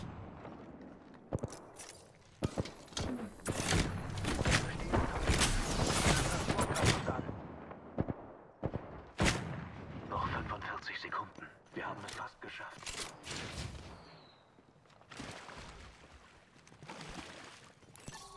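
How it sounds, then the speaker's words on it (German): Gunfire during an Apex Legends match: bursts and rapid volleys of shots, some close and loud, others trailing off, over a steady game soundscape with a voice speaking intermittently. "Sie schießen auf mich."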